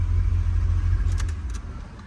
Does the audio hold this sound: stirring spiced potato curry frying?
no